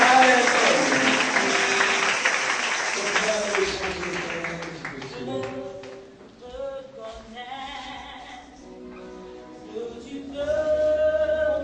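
A congregation at a church service bursts into loud applause for about four seconds, which fades as voices take over and continue to the end.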